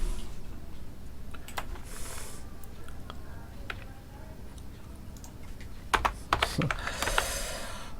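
Someone types input values on a computer keyboard while writing a C program, producing quiet, scattered key clicks with a denser burst of taps toward the end, and there is no talk.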